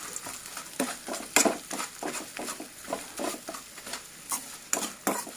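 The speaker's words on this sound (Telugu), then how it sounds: "మొత్తం ఫ్రై అయ్యేటట్టు కలిపేసుకున్నాం" Egg fried rice is stirred in a hot pan, each stroke a scraping sweep over a soft sizzle, repeating in an uneven rhythm of a dozen or so close, clear strokes.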